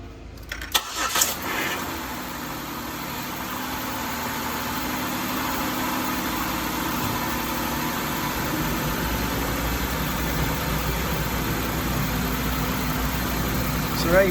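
A 2007 Buick Lucerne engine cranks and starts, then settles into a steady, even idle with a low hum and faint vibration, close by, with a brief click at the start.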